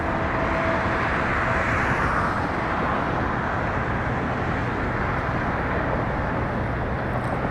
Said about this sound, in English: There is some MD-11 actioning somewhere.